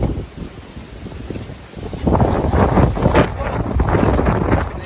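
Strong wind from Typhoon Uwan roars across the microphone, buffeting harder after a couple of seconds and staying loud and gusty throughout.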